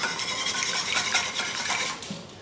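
A couple of eggs are beaten in a bowl for a lemon pepper popcorn lobster batter, giving a quick, continuous clatter of utensil against the bowl that tapers off at the end.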